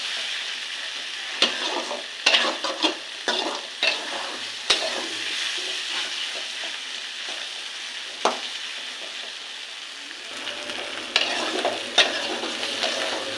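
Fish roe frying in fish oil for a chorchori, with a steady close sizzle and repeated scraping stirs of a spatula against the pan, no voices.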